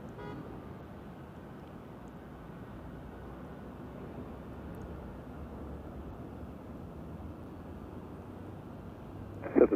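Air Force Two, a Boeing 757, takes off from LAX: a faint, distant, steady jet rumble fills the air with a broad wash of noise that holds level throughout.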